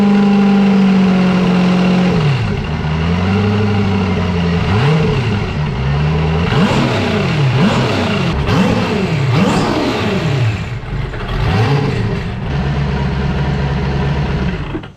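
A turbocharged LS V8 fitted in a jet ski runs loud and close, idling steadily, then pulling through a series of rhythmic rising and falling revs before settling back to a steady idle.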